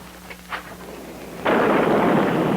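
Heavy rain from a thunderstorm at night, a steady wide hiss of downpour that surges in abruptly partway through and holds loud, after a quieter stretch with a few faint thuds.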